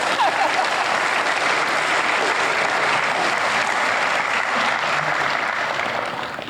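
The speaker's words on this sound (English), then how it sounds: "We appreciate, oh, you want to clap?" Audience members at a Memorial Day ceremony applaud, a full, steady round of clapping lasting several seconds before tapering off at the end.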